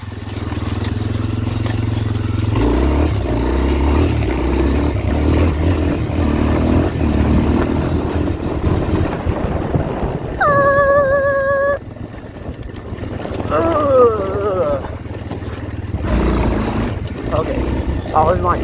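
Kawasaki KLX230R dirt bike ridden hard in high gear through backwoods trials, its engine droning loud and steady close by, with a brief excited shout partway through.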